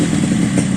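A Yamaha RX-King motorcycle engine idles close by, its exhaust giving a smooth, low, steady rumble with slight rhythmic pulsing.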